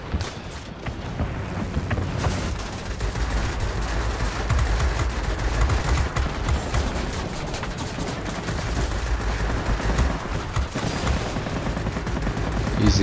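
Guns on a P-51 Mustang fighter plane fire during a bomber-escort mission in a flight combat video game. The gunfire is a loud, dense, continuous rattle that lasts throughout without pause.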